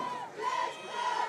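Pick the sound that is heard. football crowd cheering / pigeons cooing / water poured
football crowd cheering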